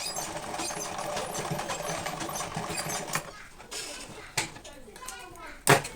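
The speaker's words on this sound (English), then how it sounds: "I'll take it to the sewing machine now and use my stitch" A sewing machine hums and rattles steadily for a few seconds while stitching a zipper on a fabric lunch box bag, then stops, leaving quieter handling noises and a few sharp clicks.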